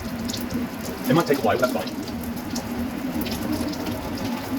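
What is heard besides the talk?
spaghetti water being poured out of a saucepan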